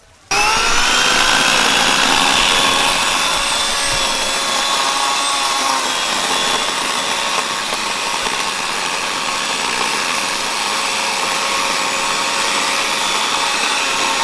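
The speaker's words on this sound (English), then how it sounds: "Brand new chain, so it's going to be a really nice cut" A Victa 82V electric chainsaw with a new chain starts up and cuts through a log, holding a steady high-pitched whine close and loud for the whole stretch.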